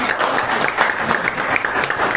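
Students in a classroom applauding a good answer in a lesson on Islamic inheritance, steady crowded clapping from many hands throughout, fairly close, with little talk over it.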